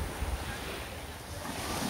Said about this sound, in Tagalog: dito malakas naman yung alon